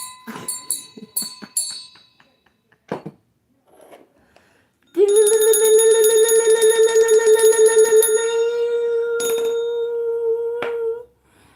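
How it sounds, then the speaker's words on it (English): A bell struck once rings out with a loud, sustained, sharply pitched tone that slowly decays over several seconds, preceded by scattered taps and clicks and followed by a brief knock. "let me ring the bell"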